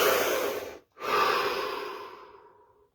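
One long, deep breath in, a brief pause, then a slow, fading exhale, close and clear with nothing else heard.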